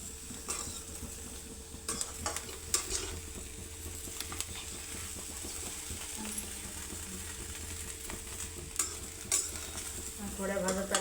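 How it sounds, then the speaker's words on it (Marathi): Peas are stirred and dry-roasted in a pan, with a soft, continuous sizzle and rustle. Scraping and clinks of a spoon against the pan recur irregularly, close and fairly quiet. "थोड्या भाजत आल्या आता आपल्या शेंगा आहे ना."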